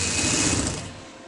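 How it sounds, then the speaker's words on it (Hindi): Sewing machine running steadily as it stitches the centre seam of a kameez, a continuous close mechanical whir that eases off slightly toward the end, with no talking. "सेंटर से मैं सिलाई लगा लूँगी"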